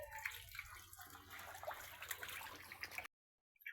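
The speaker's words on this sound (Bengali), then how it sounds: "এই যে জল ছেড়ে দিছি" Water pours steadily into a large fish tank with a continuous splashing rush that stops abruptly near the end, recorded fairly faintly with no talking.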